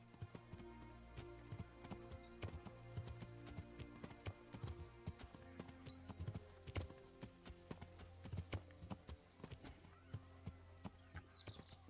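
Steady clip-clop of horse hooves in the video game Kingdom Come, rhythmic and continuous throughout, over a low droning background tone.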